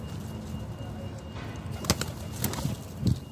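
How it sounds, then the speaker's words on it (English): A seagull being hand-fed scraps outdoors gives a few short, close calls that rise over a soft background hiss, with the loudest bursts near the end. "I know it's a seagull, innit? They're just a bully."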